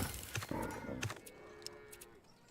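Cows moo in a video game, with low lowing calls heard quietly and a little distant, mixed with soft clicks and other faint game sounds.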